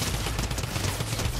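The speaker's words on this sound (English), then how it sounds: "Oh my god, the drum gun actually shreds." Mythic drum gun firing in Fortnite, a continuous rapid stream of loud, heavy shots with no pause throughout.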